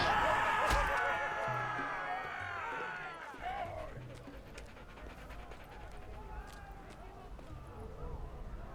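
A dog pants in a video game, quick breathy bursts close up after a loud opening with voices, then steady rhythmic huffing with light footfalls and thuds under low background sound.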